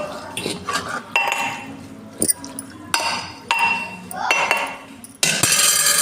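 A spoon stirs gongura pappu, a dal cooked with sorrel leaves, in a pot. It scrapes and clinks against the metal in irregular strokes, close and fairly loud, with no talk.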